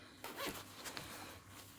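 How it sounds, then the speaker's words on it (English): A zip on the lining of a Rev motorcycle jacket being undone: one quick, close, faint zipping pull, followed by quiet handling. "and you undo this zip"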